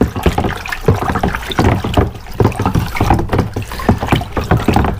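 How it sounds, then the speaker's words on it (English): A screwdriver handle stirs a hardened, cloudy liquid, giving loud, close sloshing and knocking strokes in an irregular steady rhythm with no talk. "So I'm going to stir it up. Let's use the handle."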